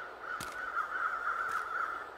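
Two crows caw in the snowy wilderness of The Long Dark, at moments about a second apart and moderately distant, over a steady droning wind or ambient tone.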